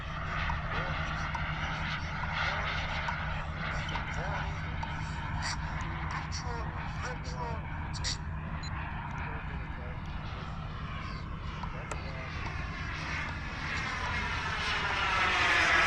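A remote control airplane's engine drones steadily throughout as the model sets up for a landing approach, a continuous buzzing whine at moderate distance that swells louder toward the end, with someone talking over it.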